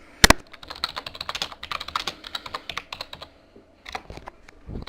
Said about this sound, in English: Type it in, hit enter.